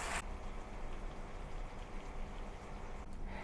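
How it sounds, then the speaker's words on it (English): Zha Jiang Mian fried sauce simmering over low heat, a steady soft bubbling and crackling hiss that runs evenly throughout, close and moderately quiet, with no voices. "turn it down to low heat and let it simmer for a while"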